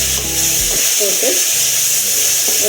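Sliced onions with ginger garlic paste fry in a pan for kudal kulambu, a goat intestine gravy, making a loud, steady sizzle close up, with a brief low murmur at the start and scraping stir sounds.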